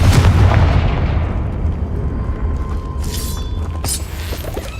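A Confringo blasting spell explodes in the Hogwarts Legacy video game: a loud, deep boom opens the clip, then its rumble slowly decays, with a couple of brief crackling bursts later on.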